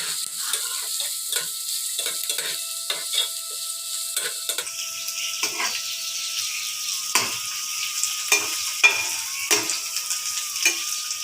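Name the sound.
garlic, onion and green chili frying in oil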